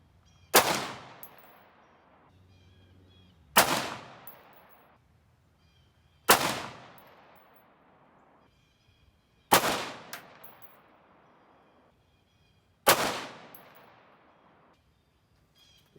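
Five single shots from a Ruger SFAR semi-automatic rifle in 6.5 Creedmoor, each a sharp loud crack with a ringing decay, spaced about three seconds apart at an outdoor range with no voices.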